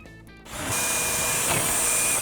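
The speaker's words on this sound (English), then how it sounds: "with a 1/2" drill bit, we'll drill out the hole where we just took the rivet out" A power drill with a 1/2-inch bit whirs steadily as it bores out a rivet hole on an EZGO TXT golf cart, a short close, continuous whine after a brief quieter start.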